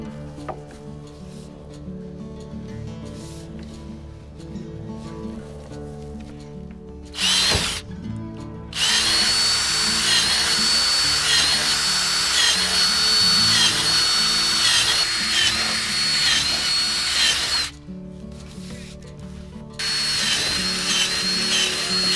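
A power drill boring holes into a capped well pipe for a hand-dug shallow water well, loud sustained whining bursts separated by short pauses, close and alone without talk.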